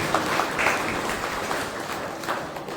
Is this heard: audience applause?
yes